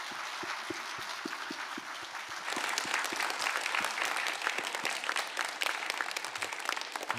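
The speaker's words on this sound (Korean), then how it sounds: "여러분들 그 감사와 격려의 박수 부탁드립니다." A church congregation at Sunday worship applauds a departing pastor. Scattered early claps swell into fuller, steady clapping that stays fairly soft and distant, with no talk over it.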